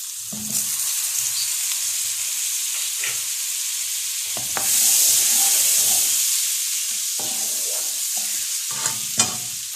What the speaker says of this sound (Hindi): अब हम इस पे वॉक में डाल लेंगे बटर।